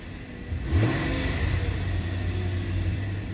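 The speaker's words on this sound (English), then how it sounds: "Give it a little rev, see what happens." A 2005 Nissan Elgrand 3.5 V6 engine, fitted with a performance chip, revs up sharply, climbing in pitch, then settles into a steady, slightly raised idle, close and loud.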